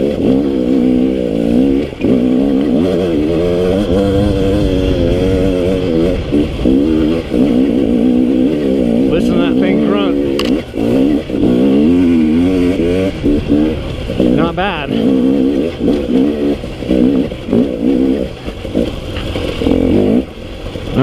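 A 2018 KTM 250 XC W TPI fuel-injected two-stroke dirt bike is ridden close up, its engine buzzing and revving up and down continuously with loud rising and falling pitch throughout.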